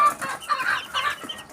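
Excited young Sweater Dom chicks, nine days old, cluck and chirp in quick, close bursts with no voices over them.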